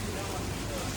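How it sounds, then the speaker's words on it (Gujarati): Light drizzling rain falls in a steady, soft patter, an even wash of fine droplets that holds constant for the whole second with no distinct individual drops. "ઝરમર ઝરમર આવે છે"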